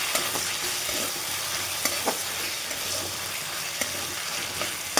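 Sabudana cooking in a pan, a close, continuous frying sizzle with intermittent scraping and clinks of stirring, steady in level and free of talk.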